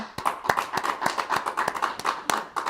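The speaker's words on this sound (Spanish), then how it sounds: "Un aplauso al Señor" Church congregation applause with sharp, irregular claps repeating throughout, moderately loud and fairly close.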